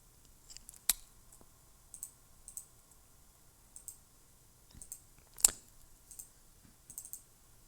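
A computer mouse clicks while files are deleted from the Windows recycle bin, giving a few sharp, isolated clicks spaced apart, with a faint ticking texture between them and no talk.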